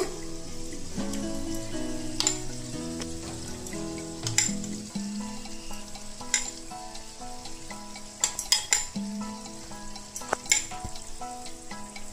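A spice paste made with sour yogurt frying in a pan for a vegetarian jackfruit dish, giving a continuous bubbling sizzle with scattered spattering pops and stirring clicks, under soft background music.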